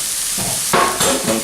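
Fresh garlic stirred in a hot frying pan for a chicken and wild mushroom lasagna: a steady close sizzle runs throughout, broken by two or three brief, louder scraping stir strokes near the end, with no voices.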